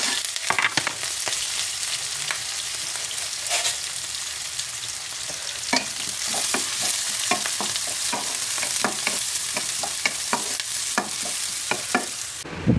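Chopped onion, four garlic cloves and six green chillies fry in a pan, a steady close sizzle with repeated scraping and stirring clicks of a spatula throughout, no voices.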